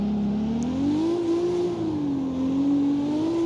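Car engine in the CarX Street driving game revving steadily while drifting, its pitch wavering up and down in a continuous loud drone with no talk.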